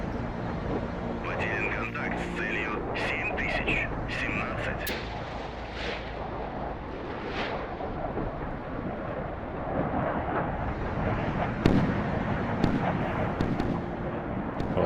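Missile launching in the Sea Power naval combat game, a continuous rumbling roar of rocket motor and gunfire-like bursts lasting many seconds, dense and loud throughout with occasional sharper cracks.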